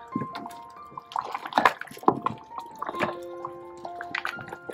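Lahori-style deghi haleem with urad and moong lentils being stirred in a pot, wet sloshing and dripping splashes in irregular bursts, close and fairly loud, with faint tonal sounds running underneath.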